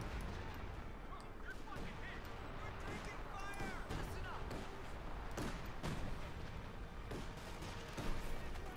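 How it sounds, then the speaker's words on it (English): Machine gun bursts and thudding artillery rattle through a Company of Heroes 2 battle, with dense repeated gunfire and explosions at moderate level under a commentator's ongoing talk. "Machine gun opening up here."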